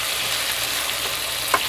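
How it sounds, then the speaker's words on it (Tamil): Mutton biryani being stirred with salt in a pot, a steady close sizzle and frying hiss with a faint scrape of the spoon near the end. "இப்போ பிரியாணிக்கு தேவையான அளவுக்கு உப்பு போட்டுக்கலாங்க. இது இப்போ நல்லா கலக்கி விட்டுறலாம்."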